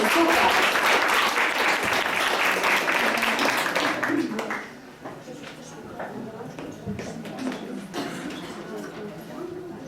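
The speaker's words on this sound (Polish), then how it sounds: "Prosimy o gorące brawa" Warm audience applause for a young performer at a Christmas carol contest, loud clapping for several seconds that then thins to scattered claps with murmuring voices.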